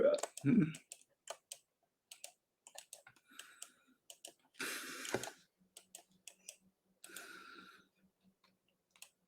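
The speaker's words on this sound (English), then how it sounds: "we gotta click on every team with draft." Computer mouse clicks while setting up a 2024 mock draft, a series of faint, sparse, sharp clicks spread irregularly through quiet stretches, with brief speech sounds between them.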